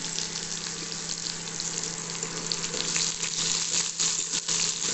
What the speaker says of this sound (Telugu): ఉల్లిపాయలు కూడా వేసేద్దాం వేసి మళ్ళీ కలుపుదాం